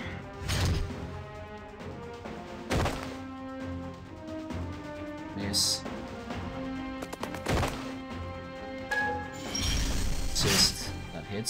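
The Mad Dog attack fires in the Digimon Survive video game, with a series of sharp whacking, crashing hits spaced a few seconds apart over a tonal game soundtrack.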